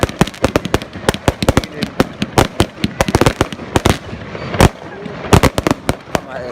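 Guy Fawkes Bonfire Night fireworks burst over Trailfinders in West Ealing, a dense, irregular run of sharp cracks and bangs, some close and loud, others quicker and fainter, firing one after another with barely a pause.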